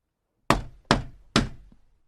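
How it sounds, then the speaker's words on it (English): Three firm knocks on a shop door, evenly spaced and close, each a sharp thud that quickly fades, with nothing else heard. "Finally, he knocked on the shop door."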